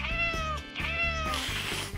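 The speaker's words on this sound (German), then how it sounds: "Oh, was für ein süßes Kätzchen." A cute kitten in a cartoon vampire scene meows several times in quick succession, fairly close and clear, over a steady musical backing.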